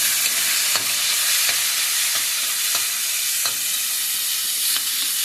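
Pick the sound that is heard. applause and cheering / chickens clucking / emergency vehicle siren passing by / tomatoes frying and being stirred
tomatoes frying and being stirred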